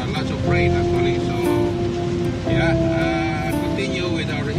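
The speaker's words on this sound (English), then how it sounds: "And still raining. Lots of rain actually." Heavy rain lashes a car driving on the highway from Ottawa toward Quebec, a steady dense wash of noise that continues throughout with a low cabin rumble and some faint tonal hum underneath.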